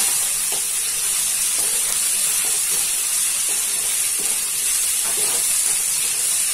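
Okra pieces fry in a pan with a loud, steady sizzle and hiss, lightly broken by faint stirring clicks. No talk is heard.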